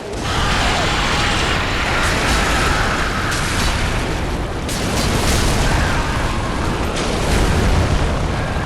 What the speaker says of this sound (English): So again, throw a bomb.